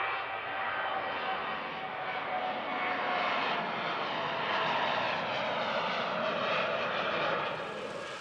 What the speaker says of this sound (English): An Everett DC-6 fuel tanker that was manufactured in 1957 was preparing to take off